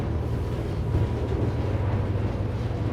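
A new 2024 Sunseeker Predator 75, a 75-foot motor yacht, runs at about 35 knots, giving a loud, steady low rumble of engines and hull on water mixed with wind buffeting, with no voices.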